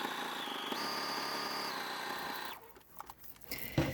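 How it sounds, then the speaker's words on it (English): A sewing machine runs steadily, stitching the hand opening of a kangaroo pocket with a straight stitch, close and alone, with a brief shift in speed before stopping and small handling noises at the end. "The first thing to sew into your machine is the hand opening."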